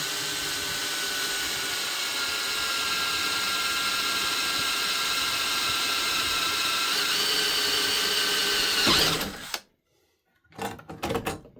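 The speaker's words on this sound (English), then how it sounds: "I'm going to drill a hole in this piece right here with speed 2." A power drill whines steadily and loudly for about nine seconds as it bores into metal, then cuts out, followed by a few short clicks and clunks.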